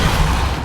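A Depulsor spell cast in the Hogwarts Legacy video game, a loud, dense burst of magical force that fills the short moment without a break.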